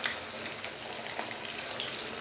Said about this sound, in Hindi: अब हमने इनको दही बड़ों को तलना है।